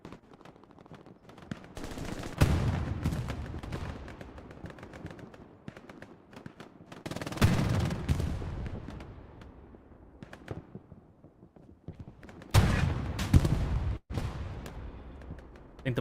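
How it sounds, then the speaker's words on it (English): In Hell Let Loose, a German Puma armoured car fires on a Stuart tank; several loud bursts of automatic cannon and gunfire arrive in clusters, with quieter gaps of distant shooting between them and no talk. "I think the Puma is shooting at the Stuart tank."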